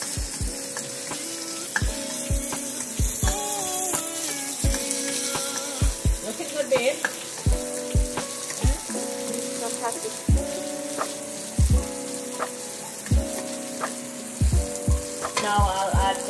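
Ginger, garlic and red onion sizzle in a chicken stir fry, a continuous hiss of frying with regular low thumps and clinks of stirring, faint music beneath.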